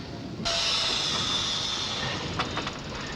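A running steam locomotive lets off a sudden loud hiss of steam that holds steady, with a few brief clanking bursts near the end, close and without talk.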